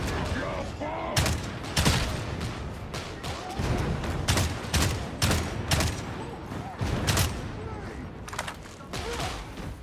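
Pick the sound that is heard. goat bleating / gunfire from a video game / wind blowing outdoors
gunfire from a video game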